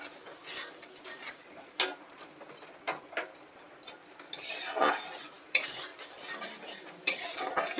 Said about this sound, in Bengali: মশলাটাকে একটু সুন্দর করে কষিয়ে নিচ্ছি।